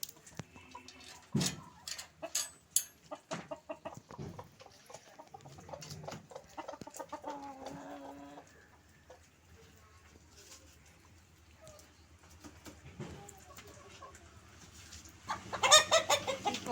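Hens cluck in short irregular bursts nearby, with scattered clucks and a louder flurry near the end, amid soft background noise and occasional voices.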